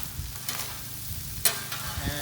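Meat browns on a flat top grill, a soft steady sizzle broken by a few sharp scraping stirs, close and fairly quiet with no talking.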